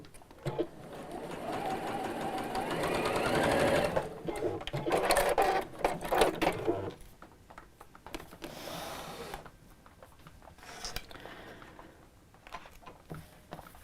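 A sewing machine stitches fabric with a fast, steady mechanical rattle in several bursts that pause and restart, fairly quiet and close, with no talking over it.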